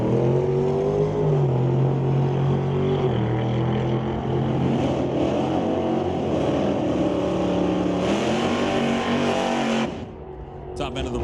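Drag race cars, a 1966 Canso and a 1969 Acadian, roar down the strip in a steady loud engine drone that rises in pitch before cutting off near the end, with an announcer talking over it.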